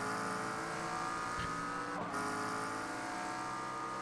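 A GT3 race car at Watkins Glen in a racing video game roars steadily at close range, its engine note shifting as it downshifts into a braking zone, with a brief tire chirp partway through.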